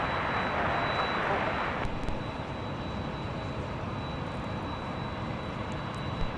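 Airliner jet engines roar steadily at LAX airport at night, a loud broadband rumble that eases slightly after the first two seconds and holds continuous, with a faint high whine running through it.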